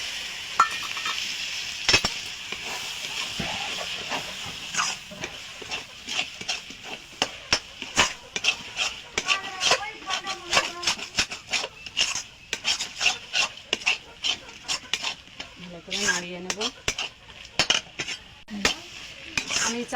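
Cabbage ghonto stirred with rice flour in a pan, heard as repeated close scraping and rubbing of a utensil against the pan, with a rhythmic, uneven series of strokes and a few clinks.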